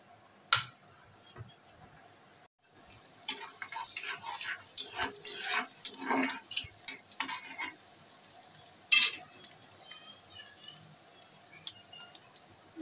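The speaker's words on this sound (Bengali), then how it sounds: "প্রথমে রসুন কুচিটা দিয়ে দিচ্ছি তেলে।" Chopped garlic hits hot mustard oil in a pan and settles into a steady sizzle, with stirring scrapes and occasional clinks of a utensil cutting through the frying hiss.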